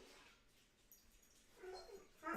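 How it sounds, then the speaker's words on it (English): A pet dog whines and yips indoors at people outside, faint at first, then louder, rising to a sharp bark at the end. "Yes, I know there's people outside. You can't just keep barking."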